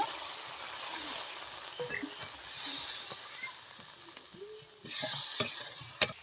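Spice paste for radish kofta fried in oil and stirred in a pan, giving a steady sizzle with intermittent scraping strokes and a sharp utensil tap near the end.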